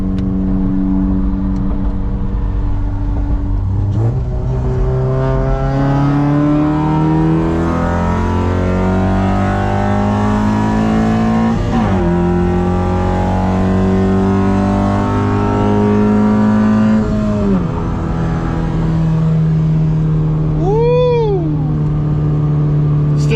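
A loud, tuned Honda CR-Z with a K24Z7 engine revs up through several gears under acceleration, the pitch climbing and dropping at each shift, with a steady roar throughout and a brief whine near the end.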